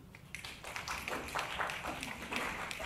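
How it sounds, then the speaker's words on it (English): Brief applause from a student debate audience, a light, fairly close patter of clapping lasting a few seconds at moderate volume. "keep applause to the minimum, please"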